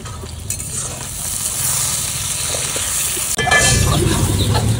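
Cinnamon, cardamom and bay leaves sizzling in hot oil with chopped onion in a wok, stirred steadily, the frying loud and close and swelling as fresh spices hit the pan.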